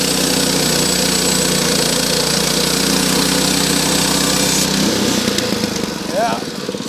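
A 7-horsepower sawmill engine runs loud and close with a steady rough chug that turns uneven and drops off near the end as a person talks over it.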